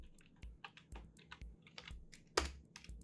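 Keys clack on a computer keyboard as the diskpart command is typed, a quick irregular run of close, crisp keystrokes ending with a sharper, louder key press, no talking.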